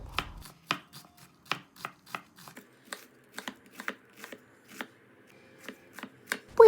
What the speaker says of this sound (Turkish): Orta boy bir tane kuru soğanı küçük küçük yemeklik olarak doğruyorum